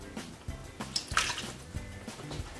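Fresh juice from one orange is poured from a container into a bowl with a nearby splashing, dribbling trickle, uneven with several small spurts and drips.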